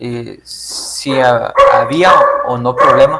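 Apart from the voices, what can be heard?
dogs barking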